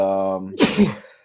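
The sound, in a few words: sneeze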